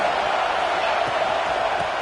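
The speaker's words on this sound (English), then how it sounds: "This crowd is trying to inspire this defense to make a big red zone stop." A football stadium crowd roars steadily for the defense during a red zone stand, a dense continuous wall of cheering and noise with no pauses.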